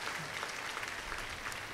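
Warm applause from the congregation welcomes Bishop Indrias Rehmat at an annual pilgrimage Mass at a national Marian shrine, a brief, fairly faint burst of many hands clapping with a soft crowd murmur beneath.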